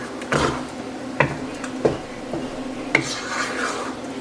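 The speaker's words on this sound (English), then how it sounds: "And go ahead and stir this all in," A spoon works cheese into a chicken casserole in a metal pot, giving soft scraping and a few sharp clinks against the rim, close and moderately loud.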